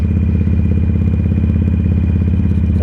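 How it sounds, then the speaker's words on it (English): A Harley-Davidson Iron 883 Sportster rumbles while riding, its engine giving a loud, close, steady low throb with a rapid pulsing beat that never lets up. "This just seems like a very fun bike. The rumbliness of it,"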